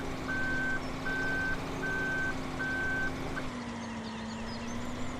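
Reversing alarm on a farm vehicle in Farming Simulator 17, with a trailer hitched behind, gives four steady, evenly spaced beeps over a constant engine drone, then the engine note shifts slightly after the beeping stops.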